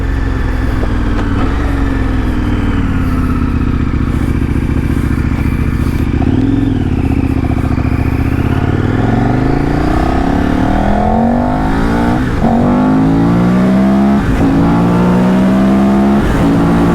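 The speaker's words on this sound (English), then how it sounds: "The glory of a big bore V-twin KTM." Big bore V-twin KTM motorcycle on a highway, loud and close, its engine rising and falling through repeated revs and gear shifts with rushing wind noise throughout.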